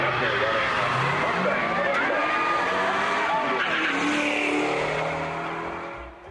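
An electric Datsun drag-races a Mustang, tires squealing and motors whining as the cars accelerate hard, loud and close, then fading slightly at the end.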